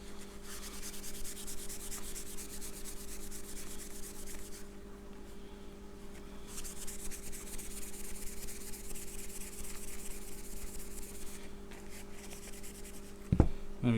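Rust being rubbed off the small metal rod of a Hoover Junior Dirtsearcher vacuum brushroll, a steady close abrasive scrubbing that runs almost without pause, with a short knock near the end.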